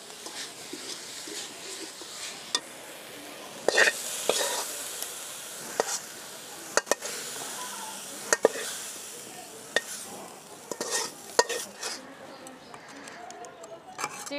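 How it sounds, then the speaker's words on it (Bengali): Grated coconut is stir-cooked in a pan for a chira pitha, with soft, faint scraping and sizzling broken by sharp utensil clicks against the pan at irregular intervals. "এবার নারকেলটা লাবায়ে ফেলাবো।"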